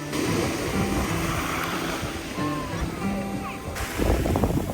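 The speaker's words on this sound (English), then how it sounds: "hearing the sounds of the waves on the shore" Waves washing onto the shore at a beach on a field course at Slapton, a steady surf roar with wind buffeting the microphone, loud and continuous with a louder rush near the end.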